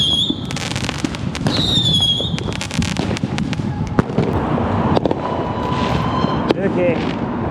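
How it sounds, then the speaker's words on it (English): Bottle rockets whistle and pop among a crackle of fireworks on a Fourth of July night at Beach Boulevard and 1st Street in Orange County, with rising shrieks, sharp bursts and people talking in the background. "There we go, some bottle rockets."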